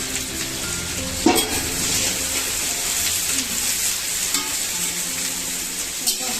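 Onions for chicken curry fry in a pan with a loud continuous sizzle, broken by a few sharp stirring clatters and scrapes, close up and without talk.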